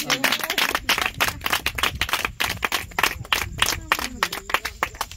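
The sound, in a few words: congregation applauding for Jesus in church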